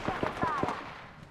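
Rapid bursts of enemy gunfire in a squad-based shooter video game, about five sharp shots in quick succession, loud and close.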